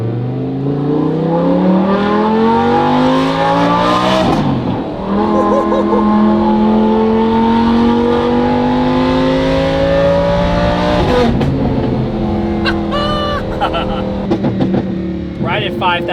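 Lamborghini Huracan LP610-4 with a 5.2-liter engine and Valvetronic Designs exhaust revs loudly and close, pitch climbing repeatedly through long pulls with brief gear-change dips, the exhaust note sharpening toward a high wail near the end.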